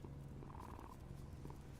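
A creature purring as it is petted in the video game Dragon Age: The Veilguard, a soft, steady low rumble lasting under two seconds, faint and continuous with no talking over it.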